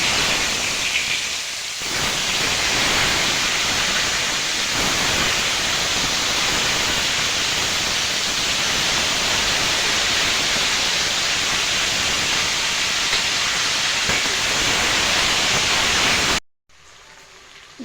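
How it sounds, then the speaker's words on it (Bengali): Potatoes fry in a wok of hot oil seasoned with cumin, a steady loud broadband sizzle that holds without a break before cutting off abruptly near the end. "প্রথমে আমি হালকা আলুগুলো ভেজে নেব।"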